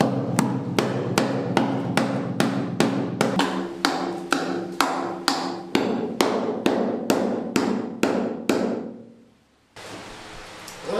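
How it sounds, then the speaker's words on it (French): A hammer strikes the rusty steel hull of a ketch about twenty times in a fast, even rhythm. Each blow rings out loud and close, then the hammering stops and leaves a brief quiet. "J'ai à peine posé le marteau dessus, ça a fait un trou."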